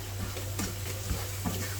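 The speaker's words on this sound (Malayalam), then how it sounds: "നമുക്കൊന്ന് ഇളക്കി കൊടുക്കാം." A low, steady sizzle runs throughout as a spoon stirs through spiced rice in a pot with soft, repeated scraping strokes.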